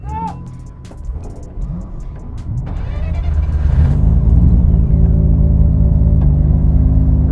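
Sports car engine, one of an RX7, Mk4 Supra or R32 GTR at a track, cranked and revving, growing louder and holding a steady deep roar, with people talking over it early on.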